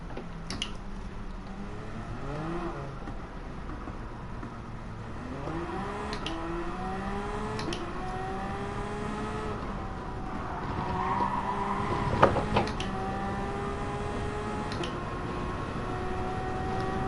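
Race car engines in a Le Mans event in Gran Turismo Sport whine and climb through gear changes, with several cars droning together, tires squealing and skidding, and a sharp impact near the middle; steady and loud throughout.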